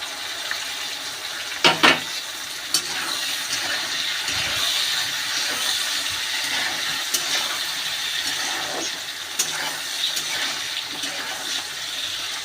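A tomato goes into a pan of fried potatoes with a steady, rushing sizzle that holds throughout, broken by a few sharp clicks near the start.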